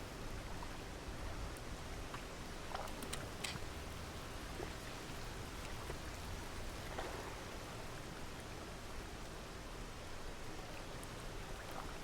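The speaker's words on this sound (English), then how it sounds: "the rain definitely fucked up the plan" Rain falls in the video game Downpour as a dense, even hiss that holds steady and close throughout, dotted with faint scattered drips and no talking.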